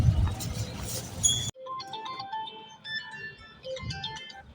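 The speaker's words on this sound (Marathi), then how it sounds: "पुढे फोन पाटलाला फोन लावा लागला आपल्याला." A phone rings while a call is being placed: after a brief burst of noise, a clear electronic tune of short repeating tones plays alone.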